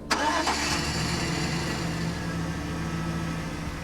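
A battered classic Jaguar's engine cranks and catches with a sharp start, then settles into a steady close idle rumble.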